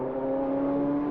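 Nissan race car engine on track during qualifying at Le Mans, a steady loud high-pitched tone held close throughout without a pause.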